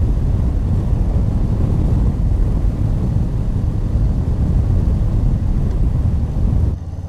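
A Harley-Davidson Low Rider S motorcycle cruising in fourth gear at about 60 mph gives a loud, steady engine drone mixed with rushing wind, which drops away abruptly near the end.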